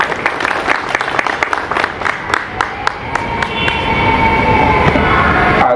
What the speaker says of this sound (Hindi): ताली बजा दिया करें भाई।